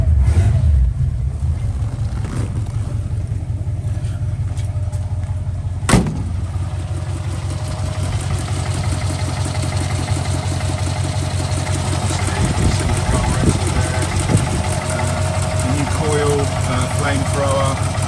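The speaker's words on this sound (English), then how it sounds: "turned the key, and the car started straight away" A 1947 Cadillac Series 62 convertible engine running after a cold start, a steady low idle with a constant rumble throughout, with a sharp click early on and some background noise over the drone.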